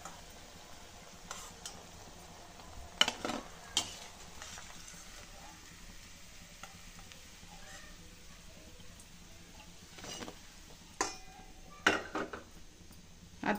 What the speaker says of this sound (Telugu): చూడండి, ఇలా గోల్డెన్ బ్రౌన్ కలర్ వచ్చేంత వరకు డీప్ ఫ్రై చేసుకోవాలండి